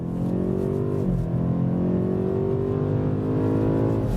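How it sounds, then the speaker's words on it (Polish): A BMW M8 Competition with a V8 exhaust revs hard and close, a loud continuous engine drone that rises in pitch, dips briefly, then climbs again. "Mam nadzieję, że słychać jak ten wydech oddaje tą V8"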